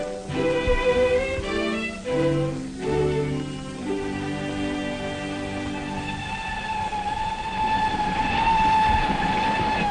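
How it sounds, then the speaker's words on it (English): Trains passing over railway viaducts in London, a loud sustained horn or whistle tone ringing out and holding over a continuous rolling rumble of wheels, with no talk. "all those homes in the shadow of railway viaducts, where the people can't rest or sleep for the smoke and the din"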